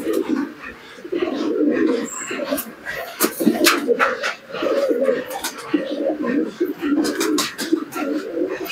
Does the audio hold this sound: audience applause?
no